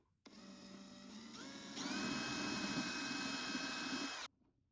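A power drill bores undersized holes into the top of a guitar, a steady motor whine that runs for about four seconds and climbs to a higher, louder pitch partway through before stopping abruptly.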